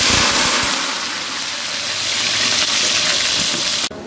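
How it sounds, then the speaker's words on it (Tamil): A pot of sliced big onions and green chillies frying with spices for ghee rice, giving a loud, steady, close sizzling hiss that runs continuously and cuts off near the end. "இப்போ வெங்காயம் வதங்கிடுச்சு"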